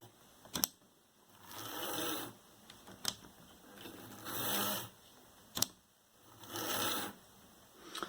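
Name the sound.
Graham Farish N gauge Class 101 DMU model train motor running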